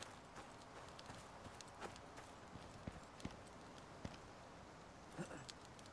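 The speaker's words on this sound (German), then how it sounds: "warte mal, das ist ein Pferd, ne?" Horse hooves clip-clop in the Icarus video game, a faint, steady series of sharp clacks with a few louder knocks over quiet background ambience.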